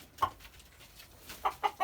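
A Leghorn rooster gives a few short clucks, one alone and then a quick pair, fairly faint against a quiet background.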